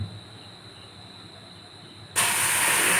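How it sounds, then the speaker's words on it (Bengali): Milk poured into a pan of caramelised sugar for tea sets off a sudden loud, close hiss and sizzle that lasts to the end, after a quieter stretch of faint stove hum. "এখন আমি দুধটাকে ঢেলে দেব।"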